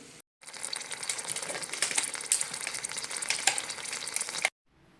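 Eggs fry in a covered pan, lightly salted, giving a steady broadband sizzle that holds loud and even for about four seconds, with brief silence at both ends.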